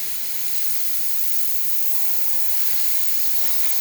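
Steady, continuous steam hiss from the steam wand of a freshly serviced La Pavoni espresso machine, loud and close, with no talking.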